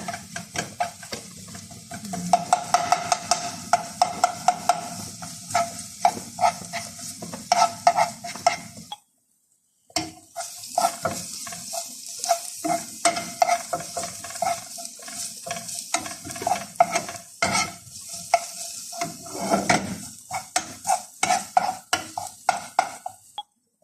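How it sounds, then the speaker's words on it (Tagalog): Garlic sizzles and crackles steadily in hot oil in a pan, with frequent stirring scrapes and clinks, pausing briefly near the middle before resuming; molokhia is being cooked alongside. "mambo nag-brown ng ating garlic"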